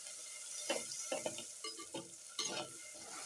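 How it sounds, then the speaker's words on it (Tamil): Garlic, tomato and onion masala frying in a pan for a fish curry, stirred continuously, with a close sizzle and distinct scraping spoon strokes in an uneven rhythm, without speech. "நல்லா ஃப்ரை பண்ணி நல்லா என்ன கைவிடாமல் கிண்டுங்க"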